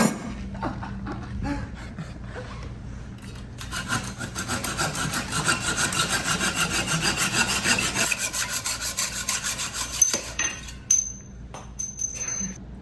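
Hand saw cutting through a bicycle fork steerer tube during a Trek Procaliber SL build, steady rasping back-and-forth strokes building in pace, with a few knocks and clinks before and after.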